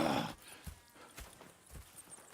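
Horses clip-clopping at a walk in Red Dead Redemption 2, with a few spaced hoof knocks at moderate distance after a brief louder opening burst.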